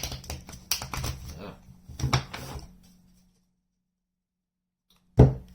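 Tarot cards are riffled in two quick clattering bursts, then silence, ending with a single sharp tap as the deck is squared.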